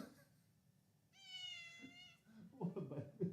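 A cat meows once in a drawn-out, clear call, close by, followed by a person's voice talking nearby.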